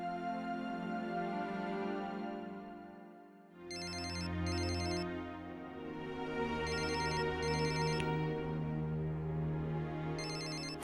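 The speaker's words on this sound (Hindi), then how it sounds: "आधी रात के किसका फोन है?" A telephone rings at midnight with a repeating electronic ringtone, loud and alone, its bursts of tones pausing briefly before resuming over a steady melodic pattern.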